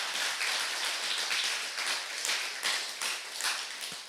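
A church congregation at a Sunday service claps together, steady dense applause filling the room at moderate volume, individual hand claps blending into a continuous patter without voices.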